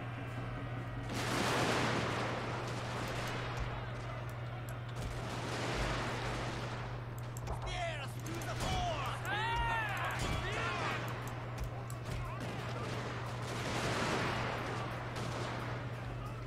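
Musket and rifle volleys crackle across a Shogun 2: Fall of the Samurai battlefield, arriving as several broad bursts of gunfire over a constant low hum. Voices are heard in the background.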